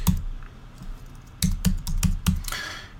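A search is typed on a computer keyboard: a scattered series of crisp, close key clicks, a few isolated taps and then a quicker cluster, with no one talking.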